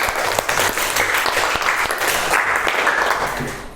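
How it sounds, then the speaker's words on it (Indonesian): Audience applause in a classroom setting for a student who just answered, steady dense clapping throughout with a few sharper claps standing out, fairly loud and close. "Beri tepuk tangan untuk Mas Nizar"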